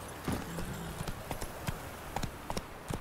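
Roach the horse clip-clops along in The Witcher 3, hooves striking in a loose, uneven rhythm of soft close thuds, with no talking over them.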